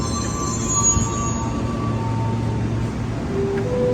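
A commuter train pulls into a station in Jakarta with a steady, fairly loud low rumble of rolling wheels and a thin, faint squeal of wheels on rail above it, with no talking.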